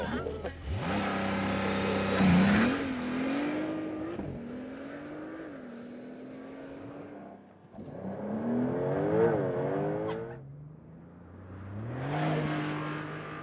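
A Porsche 911 Turbo S hybrid sports car does a launch-control start, its engine note climbing through several rising surges with brief drops between gear changes, loud and close.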